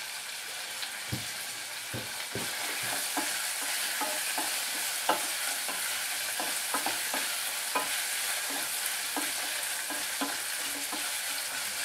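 Onions, garlic, a jalapeno and cabbage fry steadily in a pan, a constant broadband sizzle running throughout with scattered soft clicks and taps of stirring, no voices present.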